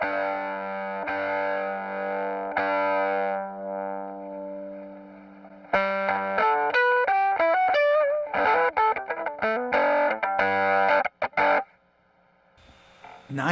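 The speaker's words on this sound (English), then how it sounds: "So a little bit fuller, kind of a thicker, chunkier fuzz sound" Bowed fiddle run through a Caroline Guitar Co. Hawaiian Pizza fuzz pedal, first a long sustained thick buzzing tone, then a busier run of distorted, choppy notes before a brief drop out and a final swell.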